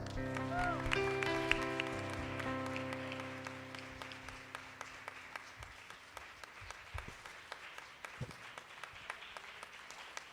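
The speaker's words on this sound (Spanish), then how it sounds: "Da un aplauso bien fuerte al pastor Efraín González." Applause from a crowd that swells and gradually fades, with sustained tones and sharp percussive hits ringing through it.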